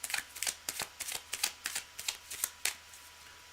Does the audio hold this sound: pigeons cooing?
no